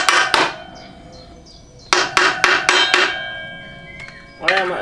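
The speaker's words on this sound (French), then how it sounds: "Sinon, on prend un marteau plus lourd." Repeated metal-on-metal hammer blows on a motorcycle part, two sharp strikes, then a quick run of four ringing hits, then another, each clanging with a bright metallic ring and no talk.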